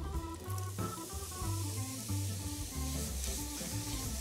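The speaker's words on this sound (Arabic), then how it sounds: "بلشنا نقلي" Sweet potatoes fry in a pan with a steady, close hiss that runs through the whole stretch, partly buried under louder background music.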